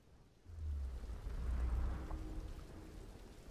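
Heavy rain falls in the video game Tomb Raider, a soft, constant hiss that swells after a quiet start, with a low rumble rising beneath it and lingering faintly.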